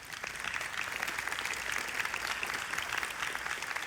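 A church congregation applauds after gospel preaching, a dense, steady patter of many hands clapping at moderate volume for about four seconds with no voices over it.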